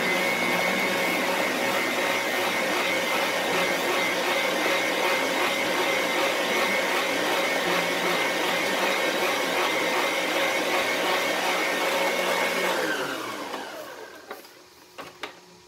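Electric mixer whirring steadily through butter cream icing made with shortening, a loud continuous motor drone that runs for about thirteen seconds, then winds down and stops, followed by a few faint clicks.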